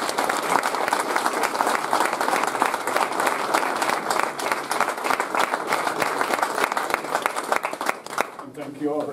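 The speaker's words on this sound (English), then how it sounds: "Please, another round of applause." An audience at a public forum for a county sheriff race gives a sustained round of applause, dense and fairly loud, with voices mixed in and a speaker talking as it fades at the end.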